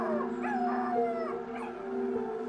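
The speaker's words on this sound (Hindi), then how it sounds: "बच्ची के मुंह से कपड़ा हटाते ही कुत्तों ने रोना शुरू कर दिया" Several dogs howling as a spooky sound effect in a horror audio story, overlapping long, wavering wails that rise and fall together, steady and fairly loud with no speech over them.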